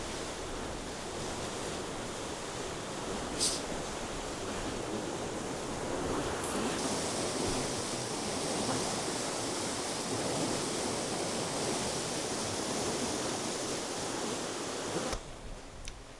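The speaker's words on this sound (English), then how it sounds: "Look at the flow of that water. Wow, that's really coming in now." Water rushes and churns into a canal lock in Utrecht in a steady, broad roar, loud and continuous throughout with only a couple of brief knocks.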